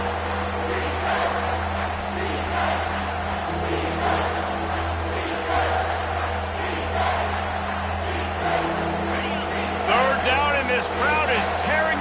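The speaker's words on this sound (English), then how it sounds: "This crowd is tearing the lid off this place." A packed stadium crowd at a Cornhuskers football game roars continuously, a dense sustained wall of cheering that swells near the end, with an announcer talking over it.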